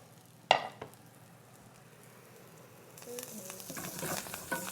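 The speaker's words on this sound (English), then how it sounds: "In the same pan, I'm going to throw scallops over there." Scallops, herbs and garlic start frying in a hot pan, a steady sizzle building in the last couple of seconds after a sharp clatter near the start.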